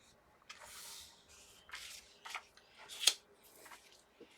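Scissors trim paper for a handmade pocket bag ephemera holder, producing several short, close snipping and rustling bursts separated by brief quiet gaps.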